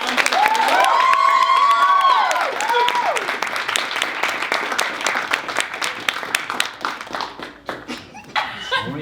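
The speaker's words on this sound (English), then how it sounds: "I think we should give another round of applause to all the folks" An audience at a school mental health event breaks into loud applause with whoops and cheers, and scattered laughter mixes in. The clapping thins into sparse, separate claps by the end.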